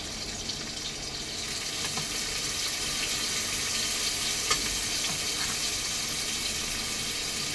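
Onions, chillies and other tomato-rice ingredients sauté in a home kitchen pan with a steady, even sizzle throughout, one faint clink of a utensil, and no talk.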